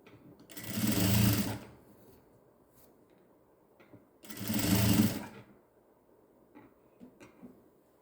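A sewing machine stitches a newborn baby gown in two separate bursts of about a second each, loud and close, with quiet handling clicks between them.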